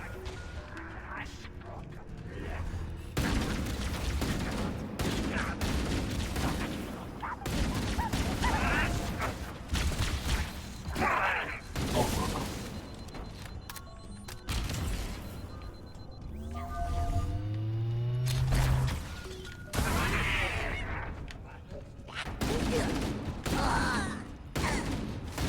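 Weapon fire and combat noise from the Halo Campaign Evolved shooter game, in loud bursts and thumps with alien vocal sounds, while someone talks over much of it.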